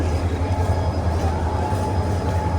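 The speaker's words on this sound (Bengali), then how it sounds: "এই তো আমাদের ট্রেন এখন 5 নম্বর প্ল্যাটফর্মে দাঁড়িয়ে আছে।" A train stands at platform 5 of Chittagong railway station, its loud, constant engine drone and low mechanical hum filling the platform without a break.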